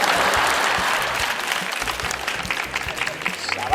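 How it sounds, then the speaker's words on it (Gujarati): Contestants and a studio audience on a Gujarati common-people game show clap loudly together in a sustained, dense burst of applause, with voices talking over it as the clapping goes on. "એકબીજા માટે જોરદાર તાળીઓ થઈ જાય."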